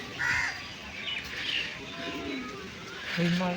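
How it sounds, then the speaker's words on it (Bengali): Giribaz tumbler pigeons perched in pairs on the roof of a white house give low, throaty coos, strongest near the end, set against a soft outdoor hiss and a few distant bird calls. "ওই যে সাদা বাড়িতে আছে কয়েক জোড়া পায়রা দেখতে পারবেন ছাদে বসে আছে ওই যে ওই যে ডাকছে"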